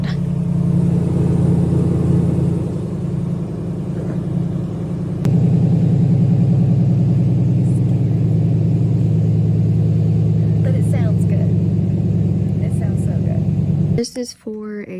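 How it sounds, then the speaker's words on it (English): A Jeep engine idles steadily after an oil leak repair, a loud low rumble that holds constant for about fourteen seconds before cutting off into brief clatter. "this Jeep sounds so freaking good"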